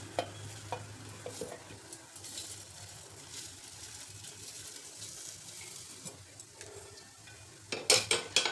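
Roasted spice mixture being stirred into half-crushed paan leaves, a soft continuous scraping and rustling at moderate closeness, with a few sharper clinks of utensils near the end.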